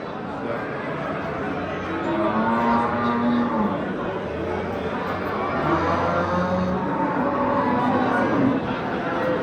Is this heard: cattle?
yes